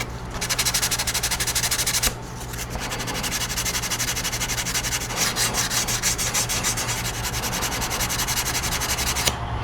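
An RC airplane wingtip on a Great Planes Patriot build is sanded with steady, loud, continuous rubbing strokes, pausing briefly once before the gritty scraping resumes, with no talking.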